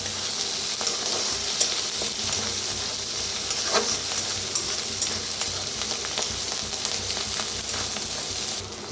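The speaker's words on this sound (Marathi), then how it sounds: "कांदा छान असा भाजलेला आहे" Onion fries in a pan with a dense, steady sizzle at a constant level, marked by faint stirring clinks and no speech.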